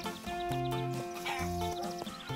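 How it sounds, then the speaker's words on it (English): Quiet horse whinnies and neighs blend into soft background music, several short calls spread across the moment. "There are many different breeds of horse, Zeke, and they come in all sizes and lots o"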